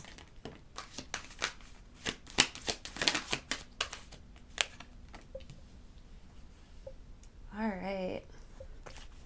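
Tarot cards are shuffled by hand in quick, crisp riffling bursts for several seconds. The riffles then thin out to a few taps before a short, quiet voice near the end.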